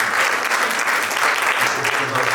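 A church congregation bursts into loud, sustained applause to acclaim the Lord, a dense roomful of clapping hands that holds steady throughout.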